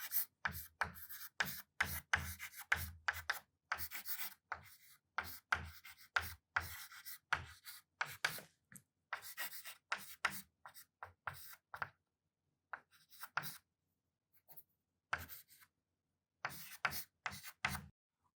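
Chalk or pen scratches across a board in short bursts and strokes with brief pauses, close and fairly quiet, during an engineering lecture on shape functions.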